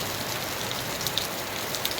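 Heavy rain pours steadily and evenly, a dense hiss of drops striking surfaces with occasional sharper splatters, close by and uninterrupted, with no voices.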